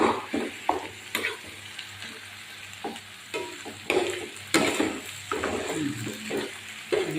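Ground pork or beef sautéing in a home pan for giniling, stirred with a spatula: steady close sizzle with repeated scraping strokes and clacks, no talking.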